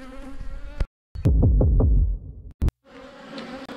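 Honey bees buzzing around an open hive during the final honey harvest, a loud close drone that breaks off into silence twice and then returns.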